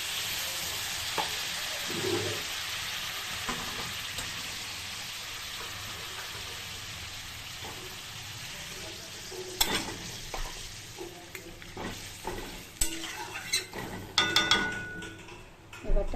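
Water poured into a hot cooking pan on a home stove, a soft hissing sizzle with scattered sharp crackles and ticks that grow busier and louder toward the end.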